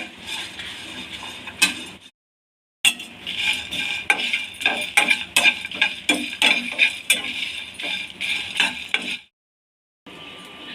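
Dry roasting cumin, coriander, dried chili, cloves and almonds in a hot pan gives close, busy scraping and clinking of a spoon against metal, in bursts with brief silent gaps, no voices.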